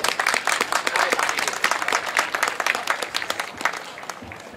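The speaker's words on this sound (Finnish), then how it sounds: "Ja totta kai valtavien aplodien saatteleman." An outdoor crowd at a summer-opening event at the market square and lakeside park in Heinola, Finland, applauding to welcome the city's vitality director, dense close clapping that slowly thins toward the end.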